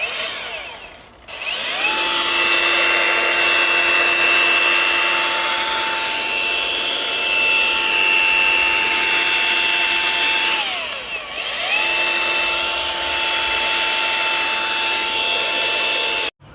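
A battery-powered DeWalt grinder runs at a steady high whine for several seconds, winds down briefly, then spins back up and keeps running loud and close, with no talking.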